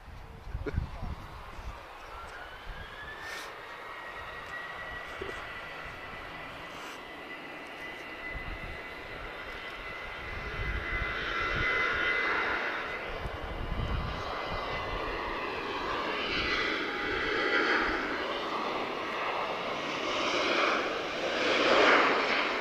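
A Boeing 737-800 (737NG) airliner at Lisbon Airport, its engine roar building steadily with a rising whine, heard from a distance alongside talking.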